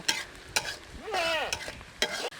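Close-up sizzling of onions frying with repeated scraping strokes of a spoon against the pot, plus a brief high squeak mid-way.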